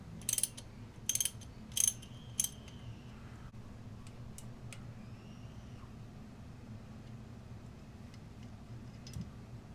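A 27-inch ICON 1/2-inch 90-tooth ratcheting breaker bar with a T30 Torx bit turns a bolt out, giving a few short bursts of fast close ratchet clicking at the start, then scattered faint ticks over a low steady hum.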